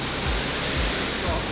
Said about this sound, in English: You can really hear like the roaring sound of the water like tumbling